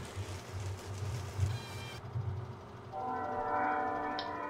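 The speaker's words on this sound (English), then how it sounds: "That train likes coming by when I'm recording for some reason." A train passing on a farm map in Farming Simulator 17, a loud rumbling rush that cuts off abruptly and gives way to a softer tonal drone, with a faint horn-like tone near the end.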